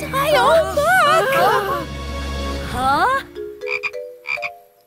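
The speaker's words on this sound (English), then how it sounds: "Hey, it's just a little frog!" A small frog croaks in the Tayo the Little Bus cartoon, giving two short croaks near the end after stretches of excited cartoon voices and music.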